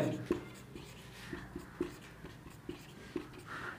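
Pen or chalk writing out a math calculation in a lesson, quiet scratchy strokes with small regular taps as each figure is formed, close and low in level with no talk.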